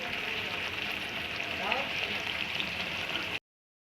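Spice paste for a mustard fish curry sizzles steadily in a pan, a soft even hiss throughout that cuts off abruptly, with a brief voice partway through.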